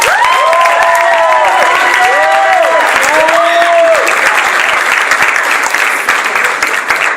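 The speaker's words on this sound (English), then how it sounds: "Let's give a round of applause to the graduates of Glendale High School." A crowd gives sustained, loud applause for graduates of Glendale High School at a graduation ceremony, with scattered cheers and voices rising over the clapping, which tapers slightly toward the end.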